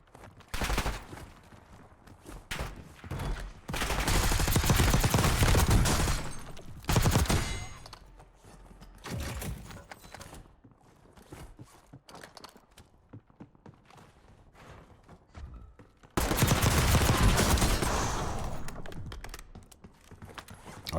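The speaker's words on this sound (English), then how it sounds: "I'm getting shot in the back." Bursts of automatic gunfire in the Call of Duty Black Ops 6 Warzone video game, loud and dense, coming in several long volleys separated by quieter gaps with scattered single shots and footsteps.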